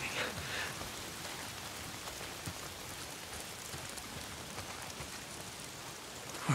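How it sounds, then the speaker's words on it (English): Rain falls steadily in the video game Days Gone, a dense, even hiss of drops hitting surfaces, moderately quiet and continuous with no talk. "If it's not the freaks, it's the goddamn rain. Why"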